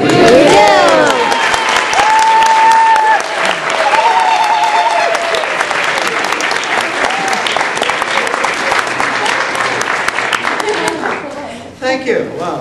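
Wedding guests burst into loud, sustained applause mixed with cheers and whoops. It carries on for several seconds and then fades as the clapping winds down.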